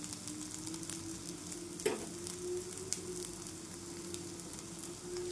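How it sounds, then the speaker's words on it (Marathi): Cucumber thalipeeth fries on a hot pan as oil is poured into its holes, giving a steady close sizzle with a brief louder crackle partway through, no talking. "आणि तेल सोडायचं होलमध्ये."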